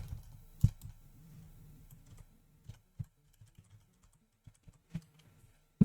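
Quiet computer keyboard typing while editing code: scattered individual key clicks and short bursts, including repeated backspace taps and retyping, close and soft with pauses between strokes.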